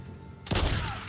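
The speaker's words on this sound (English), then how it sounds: "I heard gunshots." A sudden burst of gunfire erupts in the Days Gone video game, a loud fusillade of shots with a heavy booming thud that rings out and decays, following a quiet stretch.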